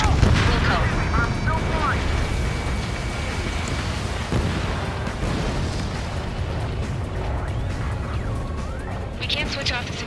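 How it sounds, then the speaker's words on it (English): Explosions rumble through a dense combat scene in Ace Combat 7, a continuous loud roar with low booms under radio chatter and voices throughout. "Somebody got caught in that explosion."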